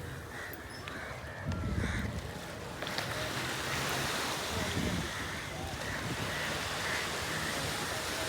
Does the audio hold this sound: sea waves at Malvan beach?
yes